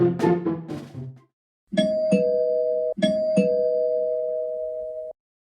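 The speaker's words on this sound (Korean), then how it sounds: "초인종 소리가 들린다." A doorbell chimes twice in a row with a clear ding-dong, each tone ringing out and sustaining before it fades. A brief burst of other sound comes just before it.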